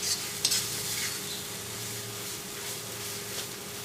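Fried chicken stirred into a thick masala paste in a hot pan for Kerala chicken varattiyathu, a steady close sizzle with soft scraping strokes and occasional light clinks throughout.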